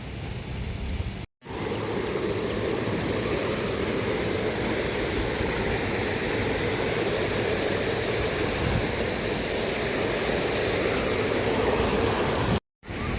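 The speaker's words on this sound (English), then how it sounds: "Pretty sure that's the waterfall." A waterfall in the mountains near Sapa, Lao Cai, Vietnam, heard as a steady, broad rushing roar of falling water, continuous and even throughout, with no voices.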